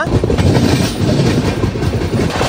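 The Tirumala Express rolls steadily along the left-side tracks with a loud, continuous rumble and a clickety-clack of wheels on rails, heard close from on board with no voices.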